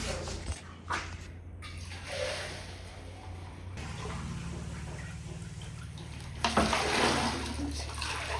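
Palm toddy poured out after measuring at a Wayanad toddy shop, a soft splashing liquid pour over a steady low hum, with brief clattering near the end.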